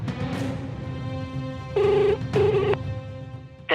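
A telephone ringback tone heard over a busy background, with two short steady ringing bursts in the middle and a brief beep near the end.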